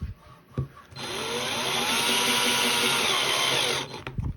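Electric screwdriver driving short screws into the lid of a NuclearHazard Core kit, a close, steady whir of about three seconds framed by small clicks and handling noise.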